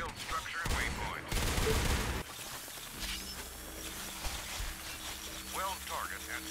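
Gunfire in the video game Natural Selection 2, a loud burst of rapid shots early on followed by quieter game sounds, with occasional voice chat in the background.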